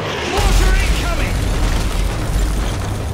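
Mortar shells exploding in a video game battle, a dense rolling boom with deep low rumble that swells and sustains under faint shouted voices.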